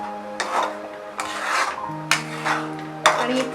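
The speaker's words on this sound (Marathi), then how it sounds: "आपल्याला ग्रेव्ही सतत स्टर करत राहायचं आहे" Gravy for a Maharashtrian Veg Maratha curry being stirred in a pan over a high flame: repeated rasping, scraping strokes of a spoon against the pan recur every second or so, close and fairly loud over a steady sizzle, with no talk.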